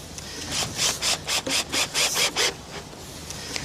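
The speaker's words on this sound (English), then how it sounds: "the old drill comes out and you pilot drill through the plastic" A rhythmic series of about eight rasping grinds as a drill pilot-drills through a plastic cloche base up close, evenly spaced, then stops and leaves quiet room noise.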